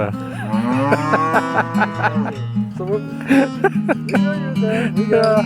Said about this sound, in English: I got here standing with some cows that they're trying to tell us their feelings.